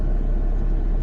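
A lorry rumbles past on a road in a Malaysian neighbourhood, a loud, steady low-pitched engine drone heard alone for about a second.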